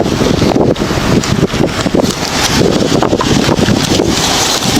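Strong, continuous wind buffets the microphone with a loud, rumbling roar that barely lets up.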